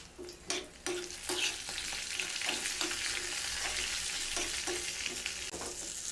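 A tadka of cumin seeds, black mustard seeds, two green chillies, curry leaves and turmeric fries in hot oil, with a steady crackling sizzle close up and repeated soft scrapes of a utensil stirring through it, no voices.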